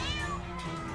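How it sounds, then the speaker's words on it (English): Small cat meowing in the South Park: The Stick of Truth video game, a short harmonic mew set against steady game music and background noise. "Attack the little kitty!"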